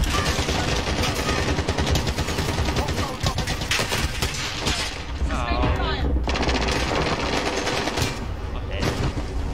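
Machine gun fire in a video game, dense rapid bursts of gunfire layered over continuous loud battle noise, with voices talking over it.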